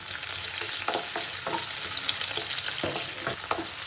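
Chopped garlic fries in white oil in a pan, making a constant, close crackling sizzle broken by several soft stirring scrapes, with no speech.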